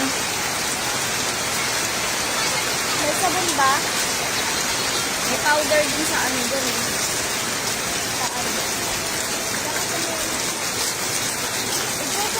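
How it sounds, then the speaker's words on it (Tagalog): Heavy typhoon rain pours in a flooded Quezon City street, a dense continuous hiss of water with steady roar throughout, while people talk intermittently over it. "Lakas na naman ng ulan."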